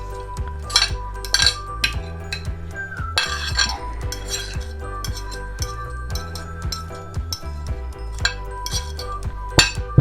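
Onion, prawns and lettuce tossed together in a bowl, with a steady run of light clinks and scrapes from utensils against the dish, close and fairly loud, and no talking.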